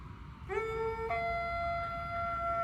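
A drawn-out dog howl from a scary video game, rising into a steady harmonic tone that holds loud and alone for a couple of seconds, siren-like, with low background rumble underneath.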